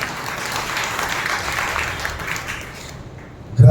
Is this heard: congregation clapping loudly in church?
yes